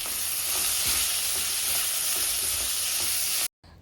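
Capsicum and sweet corn fry in a hot pan with a loud, steady hiss, stirred with a few soft scraping knocks, before the sound cuts off abruptly near the end, no voices.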